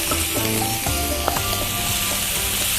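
Scored squid stir-fries with seasoning sauce in a hot pan, giving a loud, continuous sizzle. Brief scraping and stirring noises from the utensil sit over a steady background hum.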